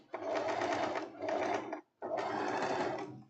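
Sewing machine topstitching a seam on elastic-waist trousers, running steadily and loudly in two long bursts separated by a brief pause, with no talking.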